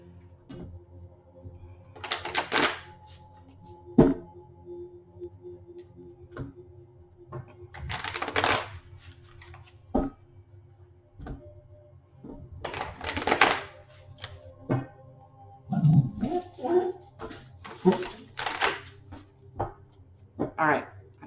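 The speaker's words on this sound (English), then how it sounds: "I felt like I needed to shuffle those a lot." Tarot cards shuffled by hand in bursts of riffling and slapping clicks, several separate rounds spread across the stretch, close and fairly loud, with occasional quiet speech in between.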